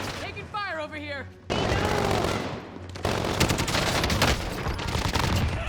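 Rapid automatic gunfire in the video game Call of Duty Warzone, loud dense bursts of shots and battle noise following a brief spoken game voice line.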